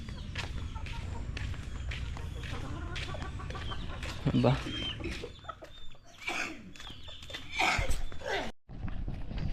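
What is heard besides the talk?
chickens clucking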